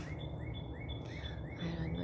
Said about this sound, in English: And that loud bird in the background,